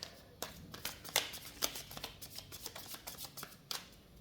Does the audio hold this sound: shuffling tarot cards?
yes